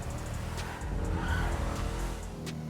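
A car driven in the video game GTA 5 holds a steady engine roar with skidding tire squeal rising through the middle, loud and continuous with no talk over it.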